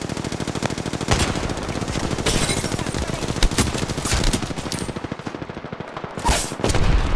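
Rapid automatic gunfire from an Apex Legends battle fills the whole stretch, dense bursts of repeated shots with a few heavier booms, loud and close with no talk over it.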